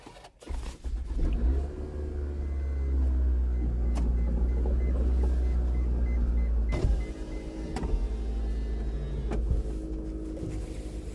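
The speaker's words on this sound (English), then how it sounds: "actually I'm gonna put my car on" A car's engine starts with a sharp crank and catches into a steady idling rumble. It runs close by, with a few clicks and thumps from inside the cabin and no talk.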